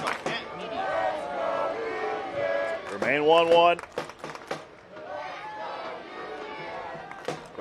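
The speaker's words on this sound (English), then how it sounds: "Crowd trying to urge their home side on to victory." Stadium crowd at a Monterey Bay FC versus Orange County SC soccer match cheering to urge the home side on, a steady roar with a sharp rising shout midway, heard under a commentator's voice.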